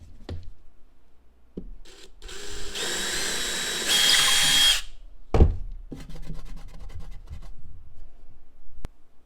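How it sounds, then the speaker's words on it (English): A power drill drilling into drywall whirs in two short bursts, the second louder and higher, followed by a sharp knock and some quiet handling noises. "So you want to get your drill bit on your drill."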